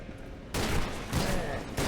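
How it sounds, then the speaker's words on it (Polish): Sustained bursts of enemy gunfire in the shooter F.E.A.R. 2: Project Origin, a dense rattling volley that starts after a brief lull and surges again near the end, loud and close. "To mnie strzela"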